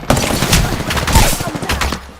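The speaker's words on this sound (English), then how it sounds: "Listen up, I'm getting shot at." Rapid bursts of futuristic video game gunfire crackle nonstop through a chaotic sci-fi firefight, loud and dense with overlapping shots and no pauses.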